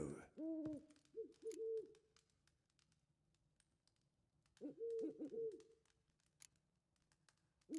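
Owl in The Witcher 3 hoots in two separate groups of low, breathy calls a few seconds apart, close and clear over quiet background with scattered faint clicks.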